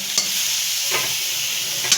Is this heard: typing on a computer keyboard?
no